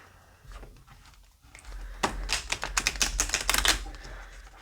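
A rapid burst of crisp riffling clatter from cards being shuffled close by, rising after a quiet start and ending with soft taps.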